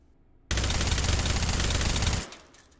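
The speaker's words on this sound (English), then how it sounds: "Finally, let's do our suppressor and the bipod here." A single continuous automatic burst from a suppressed FAMAS rifle fitted with a bipod in the VR shooter H3VR, loud and close for about two seconds, then cutting off into a brief fading tail.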